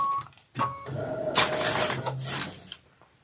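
An embroidery machine stitches a leaves detail in clover-coloured thread on a Kimberbell Hello Sunshine bicycle and watermelon design, giving a short, close whirring burst after a few soft clicks, then stopping.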